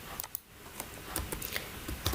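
Several quick, light key presses on a computer keyboard are heard as a sparse, close clicking pattern, typed one after another in a quiet room.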